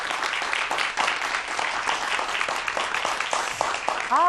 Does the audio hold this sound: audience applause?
yes